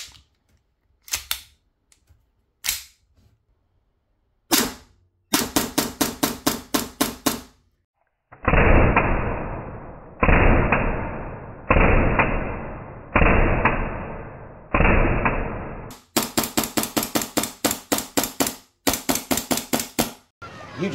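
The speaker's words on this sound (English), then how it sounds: "Now let's see if it jams if we fire very fast." An airsoft gun, one of the owner's hardest-kicking, firing rapidly in quick trains of sharp cracks, with several longer sustained bursts in the middle, loud and close with silent gaps between strings.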